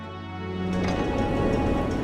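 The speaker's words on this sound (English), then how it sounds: "Oh, look, it's raining!" Rain begins falling in the video game Stormlord, a steady hiss that swells in over the first second and then stays loud and even over an ongoing musical tone.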